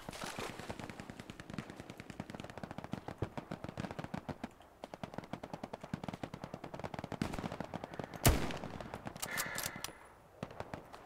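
Bursts of machine-gun fire and single gunshots rattle repeatedly in a Hell Let Loose battle, rapid and sharp, with a louder close crack near the end followed by a few scattered shots.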